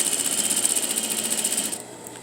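Sewing machine running steadily through a quarter-inch seam on folded fabric, a fast even stitching rhythm that stops near the end.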